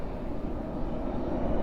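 A jet aircraft rumbles steadily at Dallas/Fort Worth airport at night, a broad continuous engine roar at close to moderate distance with no talk.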